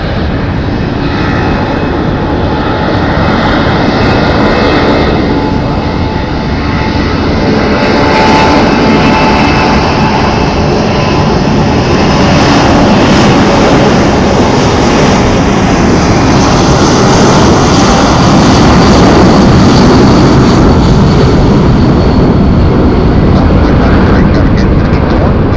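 Jet airliner departing Phoenix Sky Harbor for Minneapolis, a loud sustained engine roar that swells gradually as it climbs out, with faint air traffic control radio chatter underneath.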